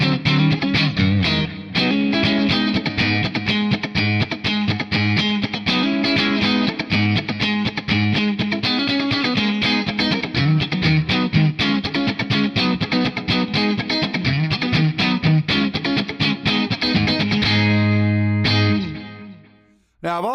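Electric guitar through a Quad Cortex running a 1970 Bandmaster amp capture with delay, ambience and hall reverb, playing continuous chords and notes, loud and steady before cutting off near the end.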